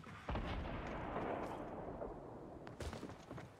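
In Fortnite, a rocket launcher explosion goes off: a quiet, distant boom with a rumbling tail, followed by a second, weaker blast near the end.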